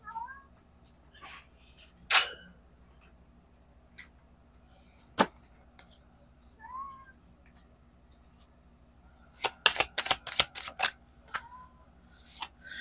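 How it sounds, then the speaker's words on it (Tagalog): A pet cat meows noisily in a quiet room, several short separate cries spread across the stretch, with soft rustling and a brief burst of clattering near the end. "Sinusuway ko yung pusa ko kasi maingay."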